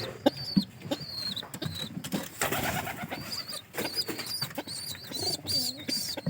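Pigeons coo repeatedly nearby, soft throaty calls rising and falling in overlapping bursts, with a few rustles and scratches around them.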